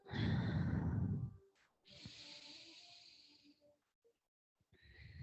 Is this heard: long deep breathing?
yes